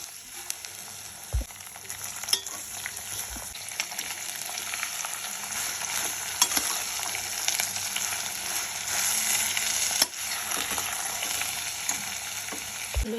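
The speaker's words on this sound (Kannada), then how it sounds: "ಎಲ್ಲ ತರಕಾರಿಯನ್ನು ಒಟ್ಟಿಗೆ ಹಾಕ್ಕೊಳ್ತಾ ಇದ್ದೀನಿ" Mixed vegetables frying together in a pan for vegetable upma give a steady, close sizzling crackle, with a few soft stirring knocks and no talking.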